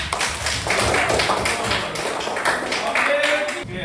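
A classroom of students claps hands together in an Islamic religious education lesson, a busy, continuous patter of many claps close by with some chatter underneath.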